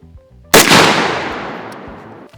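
A single sharp gunshot fired at an outdoor shooting range, loud and close, with a long reverberant tail that decays over about two seconds after faint murmurs beforehand.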